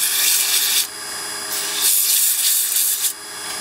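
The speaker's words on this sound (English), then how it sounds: "If you get your sanding done right, it doesn't take very long to do it" Sandpaper rubbing on a turned wooden dibber, loud, close scratching that comes in bursts, with short pauses near one and three seconds.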